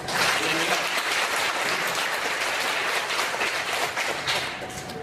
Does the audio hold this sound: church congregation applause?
yes